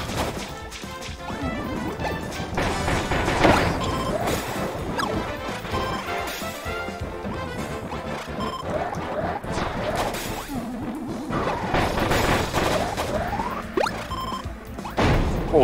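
Repeated crashing blasts and heavy impacts in the video game Kirby Star Allies, loud and dense, piling up with whooshing debris in a chaotic continuous barrage.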